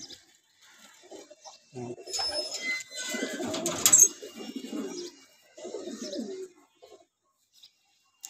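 Pigeons cooing in a loft in soft, low throaty bursts, several calls overlapping close by, with brief pauses and faint chirps in between.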